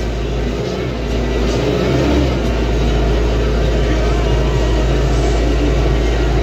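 Lovol 754 III tractor engine working under throttle while ploughing with a Kverland 2x16 plough, a loud sustained drone heard from the cabin, swelling slightly in places.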